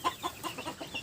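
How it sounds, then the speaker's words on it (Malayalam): A hen clucks inside a coop while laying an egg, a quick faint series of about six short clucks in an even rhythm, close by. "ഇവിടെ നമ്മുടെ ഈ കൂട്ടിനകത്ത് പിടക്കോഴി ഇരുന്ന് ഒരെണ്ണം മുട്ട ഇടുന്നുണ്ട്"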